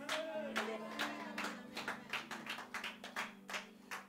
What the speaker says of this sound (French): Vous voyez comment même les acclamations sont timides